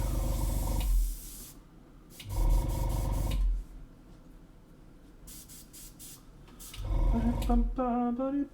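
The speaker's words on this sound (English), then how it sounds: "It is indeed airbrush time." An airbrush sprays in short bursts, a steady hiss starting and stopping about three times at close range, with brief vocal sounds at the end.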